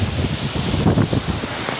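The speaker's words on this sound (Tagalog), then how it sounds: "kusog sa hangin" Strong wind buffeting outdoors, a loud rough rushing roar that gusts and swells continuously for a couple of seconds with no voices.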